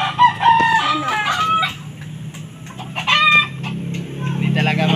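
Chickens, including a rooster, cluck and crow close by in a farmyard, with bursts of loud calls between quieter gaps and a voice speaking briefly.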